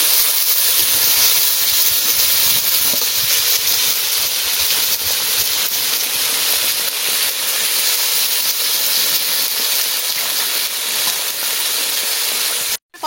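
Ground spices with bay leaf and cumin fry in a hot pan for chicken curry, giving a loud, steady, continuous sizzle that runs unbroken for several seconds before cutting off abruptly.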